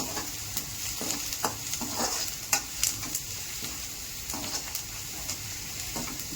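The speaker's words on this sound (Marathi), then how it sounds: "परतून घेऊ चांगला आपण." Food sautéing in a pan, a continuous close sizzle broken by regular spatula scrapes and knocks against the pan, steady and unaccompanied by speech.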